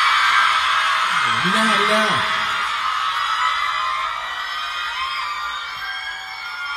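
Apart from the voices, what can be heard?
concert crowd screaming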